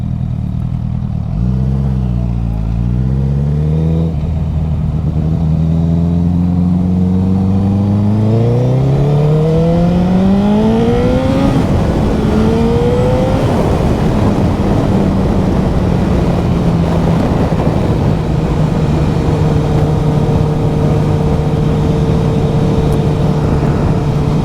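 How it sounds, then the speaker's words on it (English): A motorbike engine pulls hard on a busy road, its pitch climbing repeatedly as it shifts up through the gears, then settling into a steady cruising drone with rushing wind and road noise from nearby traffic. "Lots of traffic this time of day."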